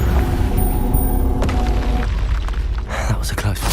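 A Confringo blasting spell explodes in Hogwarts Legacy, giving a few loud, close booms and thuds over busy combat sounds.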